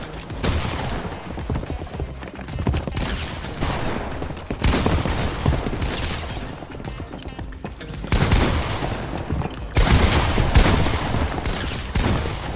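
Rapid bursts of gunfire from a Fortnite headshot-only practice map, dense fusillades and machine-gun rattles in several loud clusters with short pauses between fights, no talking.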